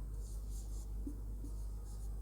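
Chalk or marker scratches softly across a classroom board during a Class 10 biology lesson, a few faint strokes over a low room hum.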